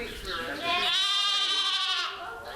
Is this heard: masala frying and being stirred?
no